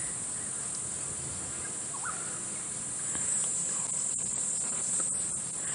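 Grasshopper stridulating at a steady buzzing chirr, faint and distant in open African bush during an early-morning safari drive, with a few soft bird calls.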